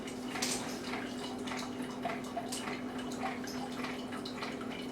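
A Keurig 2.0 coffee maker with a fault that makes it dribble water steadily, giving faint, irregular drips and trickles over a low constant hum.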